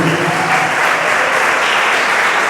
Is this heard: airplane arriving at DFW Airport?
no